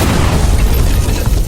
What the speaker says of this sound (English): a massive explosion erupted from the side, tearing through the battlefield in an instant